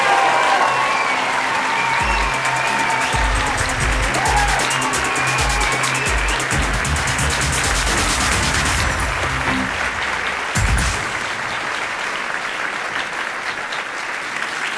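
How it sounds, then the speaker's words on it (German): Loud, sustained audience applause fills a science slam hall in Salzburg, a dense wash of many hands clapping for about fifteen seconds, easing slightly toward the end. "Bitte jetzt einen unhöflichen, tosenden Applaus für Dominik Walcher und Katharina Tucho."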